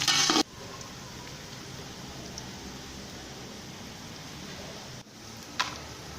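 Onions fry in hot oil for mutton pulao, giving a continuous even sizzle with a short louder clatter at the start and a faint tap near the end.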